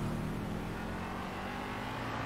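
Car engine driving in GTA's Los Santos, a steady loud drone with low rumbling tones, no voices.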